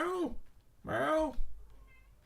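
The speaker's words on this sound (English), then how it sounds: "I can hear him going meow, meow, meow, meow." A cat meows from behind a door inside a gold mining simulator game; two clear, close meows with a pause between them, followed by faint background tones.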